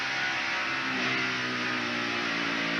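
A NASCAR Winston Cup stock car's engine drones at the 1991 Southern 500 race, holding a steady buzzing tone as the revs ease down, loud and continuous with no voices.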